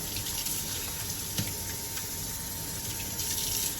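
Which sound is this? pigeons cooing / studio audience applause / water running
water running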